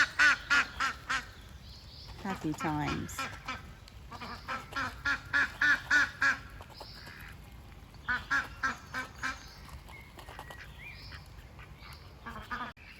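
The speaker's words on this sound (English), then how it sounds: "the other lot of ducks are coming in because they also spotted that there's food" Several ducks quack in loud bursts of rapid, repeated calls, close by, with brief pauses between groups and a short spoken remark partway through.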